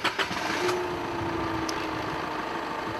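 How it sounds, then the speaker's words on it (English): An Isuzu D-Max pickup engine runs at a steady idle as a low, continuous hum, with a couple of brief clicks at the start. "We then need to make sure that the vehicle engine is running."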